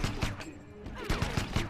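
Rapid full-auto gunfire from a Mortal Kombat fighter during a tournament match, a fast string of sharp cracks in uneven bursts with a steady game soundtrack underneath.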